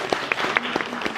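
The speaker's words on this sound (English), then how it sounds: "Clapping for all the teams." Scattered claps ring out from a college audience applauding the teams after an eye-care awareness competition. The claps are fairly faint and uneven and come from a modest crowd.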